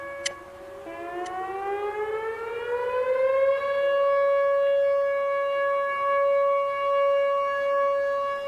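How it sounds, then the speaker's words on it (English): A storm warning siren during a derecho in Iowa winds up from low to a steady high wail and holds there, loud and continuous with slight swells, no voices. "Sirens are going off."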